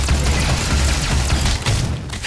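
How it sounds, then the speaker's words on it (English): Punching and shooting in the game Doom, a dense barrage of booming gunfire and thuds with heavy low rumble, loud and continuous throughout. "Yeah, just punch and shoot!"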